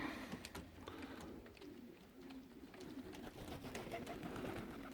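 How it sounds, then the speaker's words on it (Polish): Faint pigeons flocking home in the evening coo softly in the distance, with occasional wing flutters and rustling over a quiet outdoor background. "Także gołębie jeszcze się zlatują."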